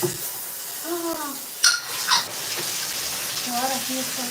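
Tap water running steadily during bathroom cleaning, with a dirty sink nearby: a continuous close splashing flow, with a voice speaking over it and a couple of brief clinks.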